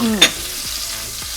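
Shrimp stir-fried with garlic over low heat in a pan with a little salt, for stir-fried flat rice noodles; a steady, soft sizzle runs throughout with one brief sharper clatter near the start.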